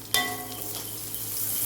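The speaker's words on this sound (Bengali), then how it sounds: "পেঁয়াজ হচ্ছে ভাজা হয়ে গেছে" Onions frying in a pan, a near, steady sizzle with soft stirring, opening with a brief clink of utensil on metal.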